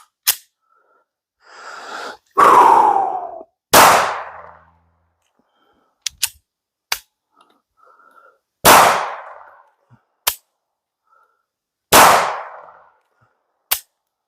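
A Glock 19 pistol with a threaded Safari Precision barrel and aftermarket recoil spring fires about seven loud, sharp shots at an outdoor range, spaced unevenly, with quieter clicks and handling noises between them.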